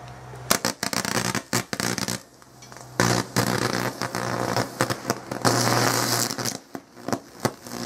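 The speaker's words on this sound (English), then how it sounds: "Hey, that other explosion was pretty impressive." Pencil leads exploding under 590 volts, a series of sharp loud cracks and sputtering, crackling bursts, some brief and some sustained, close by with pauses between.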